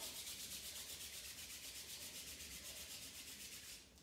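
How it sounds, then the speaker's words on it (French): Hands rubbing briskly against each other in a qigong warming exercise: a continuous soft scraping hiss with regular back-and-forth pulses, near and faint, easing off just before the end. "Je frotte."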